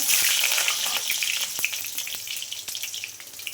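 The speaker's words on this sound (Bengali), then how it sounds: "এদিকে একটা কড়াই বসিয়ে দিয়েছি বন্ধুরা, এতে আলুগুলো ভেজে নেব" Potatoes fry in an oil-filled wok with a steady, close hissing sizzle and scattered crackling pops, continuous throughout with no talking.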